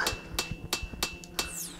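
Hammer blows on metal at an anvil in a VR smithing game, five sharp ringing strikes at a steady, roughly even pace, close and clear, with no talking.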